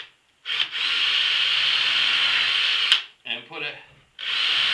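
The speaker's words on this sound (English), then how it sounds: "I'm gonna take a countersink bit. And I'm gonna just take a hole here in the center." A countersink bit drills into a wooden shop hook piece in bursts, a loud steady whine cutting the wood, stopping and restarting while someone speaks briefly between runs.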